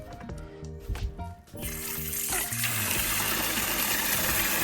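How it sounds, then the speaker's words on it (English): Water from a house supply forces through an RV's plumbing and out the low point drain while the camper is dewinterized; after a brief tonal start, a steady gushing rush sets in and continues strongly to the end. "water from the house is just forcing through the whole system"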